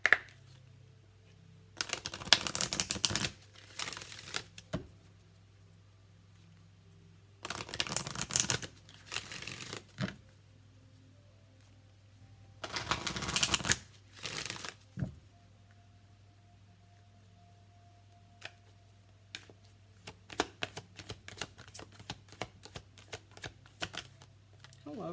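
Angel Guide Oracle cards by Kyle Gray being shuffled, with three long bursts of riffling card noise separated by pauses, then a stretch of scattered short taps and card flicks, close and fairly quiet.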